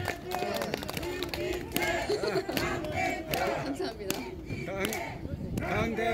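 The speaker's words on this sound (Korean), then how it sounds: "박수 한번 주세요." A crowd at an outdoor political rally on the Dongdaegu Station plaza cheers and shouts, with scattered clapping mixed into a dense, continuous wall of voices.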